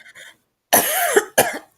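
A person coughs, with two sharp, close coughs after a brief faint vocal sound, the second shorter than the first.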